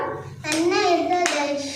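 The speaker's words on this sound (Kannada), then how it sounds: "ಎರಡೆರಡು ಸರಿ ಚಪ್ಪಾಳೆ ಹೊಡಿಬೇಕು" Schoolchildren in a first-grade classroom clap their hands in two quick bursts, close and bright, while a voice chants through the claps.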